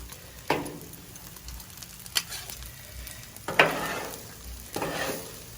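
Eggs frying on a hot seasoned griddle for fried rice, a steady sizzle broken by sharp scraping spatula strokes at irregular intervals, close and fairly loud, with no talking.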